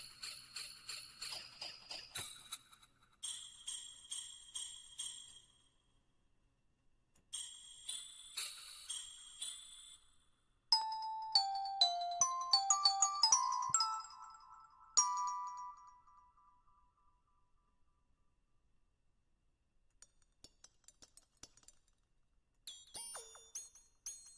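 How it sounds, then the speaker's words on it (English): A Jingle Bell Pulse instrument preset in music software plays bright, bell-like jingles in short repeated bursts, then a run of tonal notes and scattered tinkles, all fairly quiet with gaps of silence and no talking. "Jingle Bell Pulse?"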